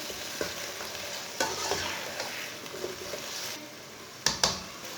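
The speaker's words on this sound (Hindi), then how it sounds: "आधी प्याली मटर डाल लेंगे। 1 प्याली आलू डाल लेंगे। आलू को मैंने मोटे पीसों में काटा है। मिक्स कर लेंगे।" Peas and coarsely cut potato chunks are stirred in a hot pot for matar aloo pulao, with a steady frying hiss under repeated scraping and clattering strokes of the spoon, close and fairly loud, with no talking.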